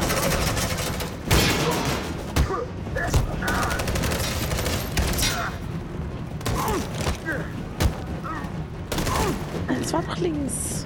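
Gunfire rattles in bursts during a scene of the video game Detroit: Become Human, sharp shots and mechanical clatter repeating over a dense, loud game mix with a voice talking.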